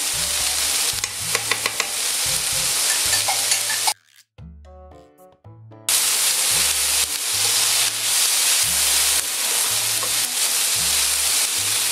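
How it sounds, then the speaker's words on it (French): Ham and garlic sizzling loudly in a frying pan with fried rice, mushrooms and broccoli, a steady hiss broken by repeated stirring scrapes, with a brief quiet gap midway before the frying resumes. "Le moment est venu de mettre le jambon. Fichette d'ail."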